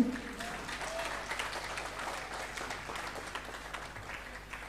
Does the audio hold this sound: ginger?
no